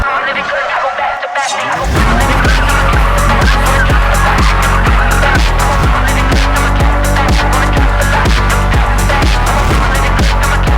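A drift car on its last set of tyres squeals and skids through a run, the engine revving in loud rhythmic pulses after a brief quieter opening, close and continuous.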